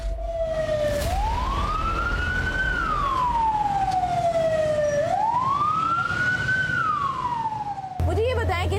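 An Edhi ambulance siren wails through the streets of Lahore, rising and falling in two long, loud sweeping cycles over steady road traffic noise, then breaking into a faster warble at the end.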